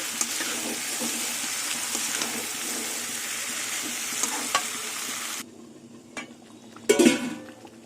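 Chicken pieces braising in hot oil in a pan sizzle and hiss steadily while being stirred, with scraping and clinking of a utensil. The sizzle drops sharply partway through, followed by a brief louder scrape and clatter near the end.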